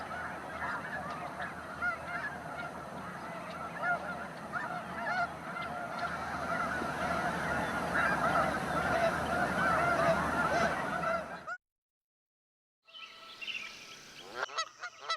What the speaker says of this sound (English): White-fronted geese migrate along the Pacific Flyway and winter in California's Central Valley